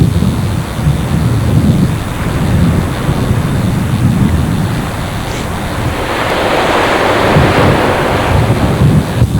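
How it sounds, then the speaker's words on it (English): Ocean surf churns with steady wind buffeting the microphone, a loud, continuous roar of breaking waves that swells slightly toward the end, with no voices. "Let's see the ocean."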